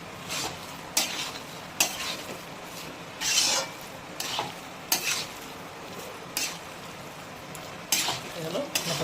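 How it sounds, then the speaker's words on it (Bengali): Banana flower curry with prawns, ghee and garam masala is stirred in a pan with the flame off, a series of scraping strokes with soft sizzling between them. "এবারে এটাকে ভালো করে মিক্স করতে হবে"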